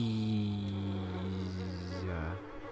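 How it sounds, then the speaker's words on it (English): Bees buzz in the video game Little Nightmares 2 as a steady, droning hum that holds for over two seconds before dipping and fading, with no speech. "Bees!"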